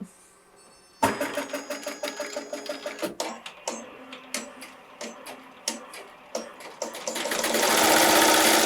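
Embroidery machine stitching a classic lamb design, starting after a second of quiet and then running a rapid, regular mechanical clatter of needle strokes, close and steady, rising into a louder whirring rush near the end.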